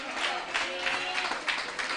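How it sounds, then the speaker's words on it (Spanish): A church congregation at an annual retreat service applauds in praise, a brief, busy patter of many hands with crowd murmur, fairly close and even. "Dale un aplauso al Señor"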